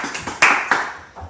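A church congregation applauding at a Sunday worship service, a short burst of clapping with a few sharp claps that fades out within about a second.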